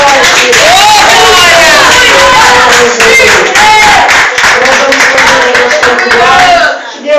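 A church congregation claps strongly during a worship service, the loud clapping mixed with shouting voices and singing throughout, then briefly cutting out near the end.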